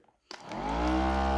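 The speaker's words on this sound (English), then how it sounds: "excuse the noise in the background. It's just the vortex mixer." After a faint moment, a vortex mixer's motor whirs to life and ramps up into a steady, loud buzzing hum as it shakes a pot of paint.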